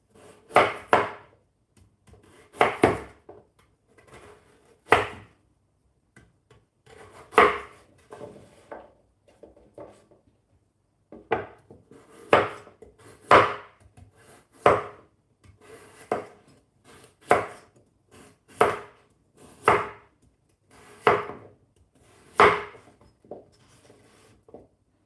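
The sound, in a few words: cutting potatoes on a wooden board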